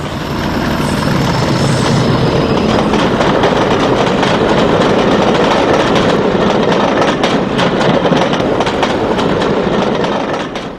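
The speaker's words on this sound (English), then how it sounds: "Another unidentified loco heads bound south through Berwick in 75." A British Railways Class 40 diesel locomotive passing southbound through Berwick, with a loud, steady roar of engine and rolling wheels, clickety-clack of rail joints and faint wheel squeal, close by and without talk.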